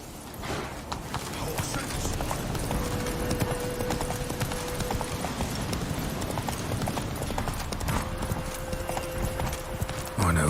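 Roach, a horse in the video game The Witcher 3, gallops with rapid, loud hoofbeats throughout, joined by a neigh. Character dialogue and game sounds run over the hooves.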